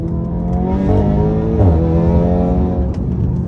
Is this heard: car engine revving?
yes